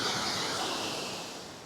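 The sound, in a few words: Aira Force waterfall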